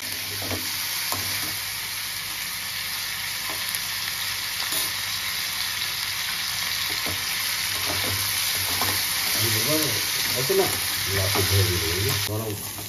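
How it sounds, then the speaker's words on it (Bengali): Potatoes frying in a pan: a steady close sizzle throughout, with occasional stirring scrapes and brief background voices toward the end. "কি সুন্দর ঝুড়ি ঝুড়ি আলু ভাজা হয়েছে।"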